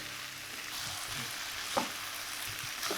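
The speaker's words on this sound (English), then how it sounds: "So on a high heat, coat it thoroughly with all the onions and the spices, and making sure that every single piece is covered." Onions and spices fry on high heat for a bottle gourd curry, a steady close sizzle with stirring scrapes throughout.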